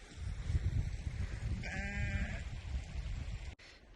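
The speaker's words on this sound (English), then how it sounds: "More sheep." Sheep bleat out on an open hillside in Norway's Trollheimen mountains, a single clear wavering bleat standing out at moderate distance over steady outdoor wind and rustle.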